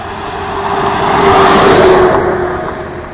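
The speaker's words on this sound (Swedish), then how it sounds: "det finns en del som gasar på mer än vad de skulle göra, som den här bussen till exempel" A bus with a failing engine revs hard and accelerates along a local road, a loud, strained engine drone that swells as it passes close, then fades slightly.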